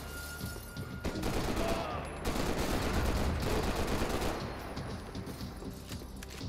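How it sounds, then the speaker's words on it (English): Sustained rapid gunfire in Max Payne 3, a loud, dense barrage of overlapping shots that runs almost without pause, peaking in the middle and staying heavy to the end. "Rapid fire."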